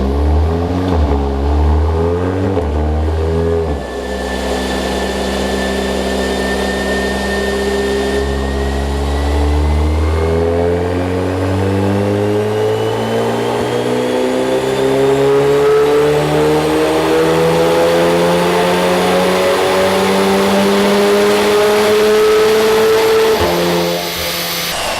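A loud Ford Mustang engine with a REMUS aftermarket exhaust revs and climbs steadily in pitch, rumbling deep and close throughout with no talking, on heated tarmac.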